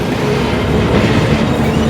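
Mahananda Mail passenger train running between stations in rural Bangladesh, a steady loud rumble of wheels and carriage noise with faint rhythmic rail clatter throughout.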